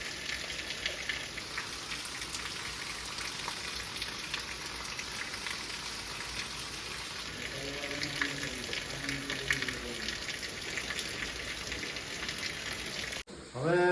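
Heavy rain pours down steadily at a bus stand in Nilakha near a swollen river, a dense, even hiss lasting throughout, with a brief tonal sound rising midway.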